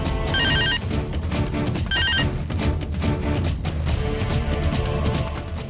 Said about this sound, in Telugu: అమ్మా చిత్ర, అమ్మా చిత్ర, రాముడి ఫోన్ చేశారు కదా?